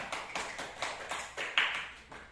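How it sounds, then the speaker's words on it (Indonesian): Sparse, faint clapping for a presenter named Saira, a handful of separate claps at an uneven pace, quiet and unaccompanied by talk. "berikan aplaus kepada Saira"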